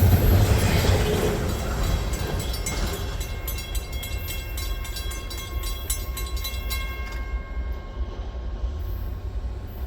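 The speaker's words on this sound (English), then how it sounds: "Here's another train that's not weird and is not unusual." Freight train rolling past steadily on the NS D&H line, a continuous loud rumble of wagons with rhythmic wheel clicks and squeal, no voices, fading slightly toward the end.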